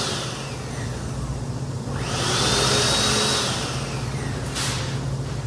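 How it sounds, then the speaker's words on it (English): Kitchen blender running hard to grind onion, garlic and ginger into a paste at a chili cooking class, a steady loud motor whir that swells in pitch midway with a brief surge near the end. "I'm gonna put in my blender. And I'm just gonna create a nice paste out of it."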